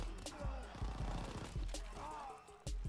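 Gunfire from a gun in Call of Duty WW2 Zombies, a handful of sharp separate shots spaced across a few seconds over a low rumbling game background, moderately quiet.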